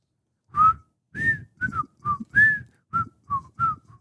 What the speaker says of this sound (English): Give us a little whistle.